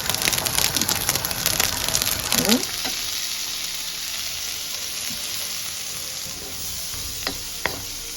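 Curry and rice sizzling and frying in a pan for a prawn stir fry, a steady loud crackle with stirring scrapes early on, then a constant hiss with a few sharp pops near the end.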